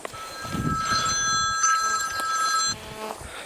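A phone rings with a steady electronic tone for a few seconds, then cuts off, with faint background noise around it.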